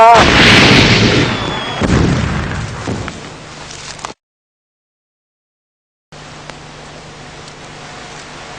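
Gunfire and blasts in the Garry's Mod video game: a loud burst of shots and booming explosions fills the first few seconds, then fades, cuts to silence, and resumes as a quieter background hum.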